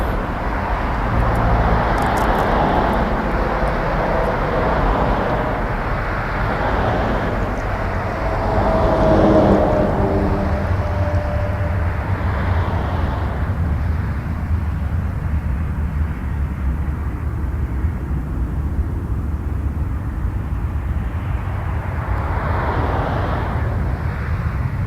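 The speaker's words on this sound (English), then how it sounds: "Taxiing down next is an Embraer 175." A SkyWest Embraer 175 jet taxiing at Toronto Pearson airport, a steady distant engine rumble and whine that swells a little midway, heard outdoors from afar and mixed with broad background hum.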